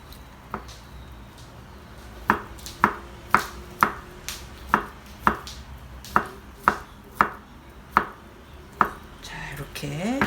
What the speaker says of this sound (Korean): 햄을 좀 잘게 썰어야 돼요